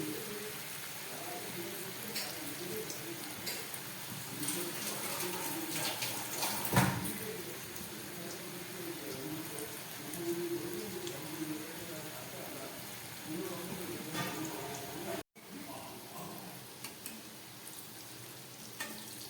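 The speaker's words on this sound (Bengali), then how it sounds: "সব কোপ্তাগুলো আমি একবারেই ভেজে নিচ্ছি।" Jackfruit koftas frying together in hot oil over a medium gas flame, giving a steady close sizzle and crackle throughout with a brief louder spatter partway.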